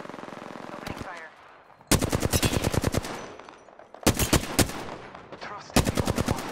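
Automatic gunfire in the video game Apex Legends, three loud rapid bursts of evenly spaced shots with short gaps between, close and dominant.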